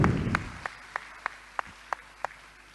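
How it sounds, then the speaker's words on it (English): Scattered claps from an audience at a competition awards talk, starting with a burst and settling into a steady, evenly spaced beat of single sharp claps, moderately close and fairly quiet. "Can we have a huge round of applause on that?"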